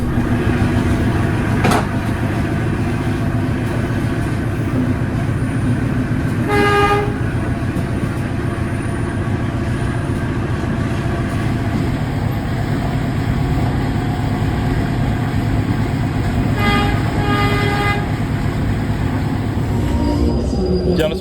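KA Sri Tanjung economy-class passenger train on the move, a loud steady rumble of wheels and carriages with brief metallic squeals and clanks, heard from inside, with no talk.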